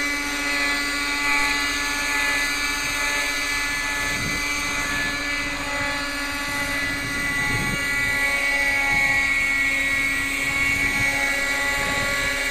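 A small .18 nitro RC helicopter hovers at about three-quarter throttle, a loud, steady high-pitched engine whine with a slight buzz, holding constant for the whole stretch without talk.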